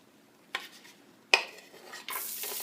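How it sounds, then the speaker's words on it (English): Fresh cut onions and a little jalapeno hitting a pan for ground beef gravy, with two sharp clinks of utensil on pan and then a bright sizzle that swells up toward the end, close by and without talking. "Going to drop some fresh cut onions and a little bit of jalapeno in there."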